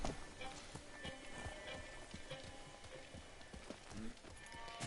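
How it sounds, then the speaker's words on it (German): A horse's hooves clip-clop in Ghost of Tsushima, a quick steady trot with occasional heavier thumps, heard at moderate distance under game ambience. "Pferd, komm her. Aufsteigen."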